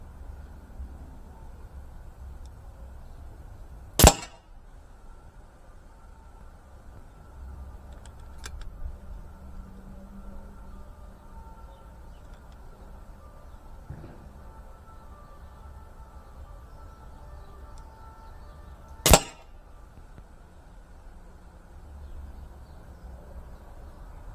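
An Artemis Snowpeak PP750 air rifle firing UX Mosquito pellets gives two sharp, loud single cracks about fifteen seconds apart, set against a quiet background hum with no voices.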